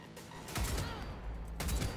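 A power precision sniper rifle fires in Cyberpunk 2077, two heavy, booming shots about a second apart with a low rumbling tail, fairly loud with no talk over them.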